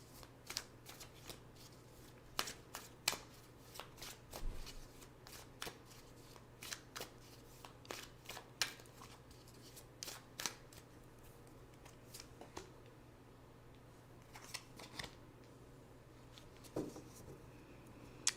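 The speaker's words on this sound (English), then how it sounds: "Now let's pick two cards for guidance." Tarot cards being shuffled by hand, with soft, close riffling and flicking bursts repeating in irregular rhythm over a quiet background hum.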